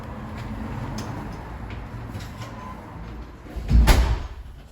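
An apartment building's unit entrance door opens with a solid thunk and brief rattle near the end, following quiet room ambience with faint ticking.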